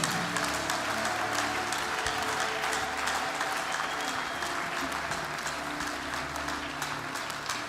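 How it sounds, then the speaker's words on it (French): Church congregation applauding during a Mass prayer service, a dense, steady wash of many hands clapping that fills the room at even loudness throughout. "Acclamons pour le Seigneur."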